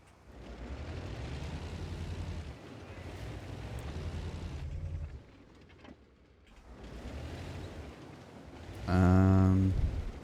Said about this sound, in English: I'm going to turn the engine sounds down a bit.